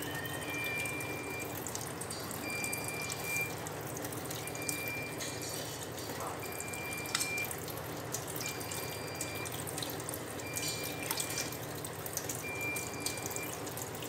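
Raw hilsa fish pieces being washed in water, a steady trickle and splash from a running tap with soft sloshing throughout, continuous and moderately close.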